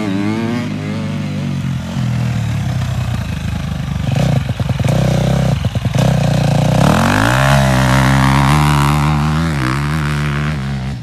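Motorcycle engine during a riding coaching session, loud and close, revving and dropping through gear changes with a steady drone and rising pitch toward the end.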